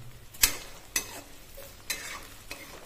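Potato pieces fry with browned onions in a pan, giving a close, soft sizzle broken by four or five sharp scraping stir strokes at a fairly regular pace.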